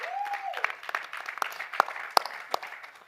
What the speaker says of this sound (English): please give a massive round of applause for our panelists